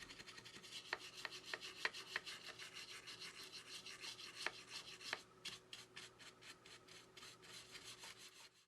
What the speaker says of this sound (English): With the help of this GBC metal brush, we clean the corrosion